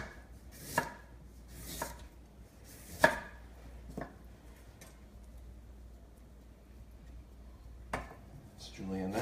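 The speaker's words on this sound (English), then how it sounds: "Nice thin shavings of watermelon radish." A knife slices watermelon radish into thin shavings on a flat cutting surface, giving a few sharp, separate cuts and taps spaced out over a quiet room background.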